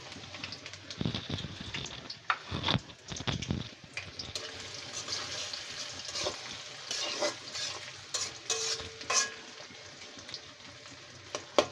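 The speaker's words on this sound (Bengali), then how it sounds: "আমরা এখানে পেঁয়াজটাকে ভাজতেছি" Chopped onion and garlic fry in hot oil for a beef dish, a close crackling sizzle broken by irregular bursts of stirring and scraping in the pan, with no one talking.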